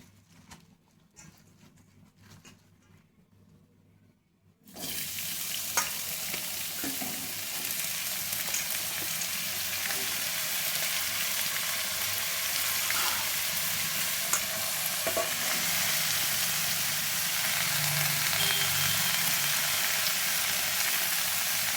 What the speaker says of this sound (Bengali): অল্প একটু তেলেতে নেড়ে নেব।